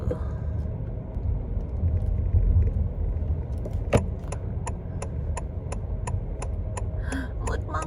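A car drives along a road, giving a steady low rumble of engine and tires from inside the cabin, with a sharp bump and then a run of regular light ticking like an indicator.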